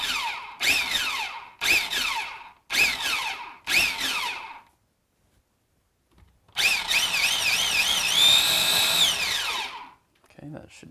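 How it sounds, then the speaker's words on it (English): A food processor chops vegetables for a chickpea and zucchini burger mix, starting with four short, loud pulses separated by silence. After a pause, one longer continuous run follows, its motor whine wavering in pitch. "over to the food processor, process this up just a little bit, and add it to our chickpea mixture"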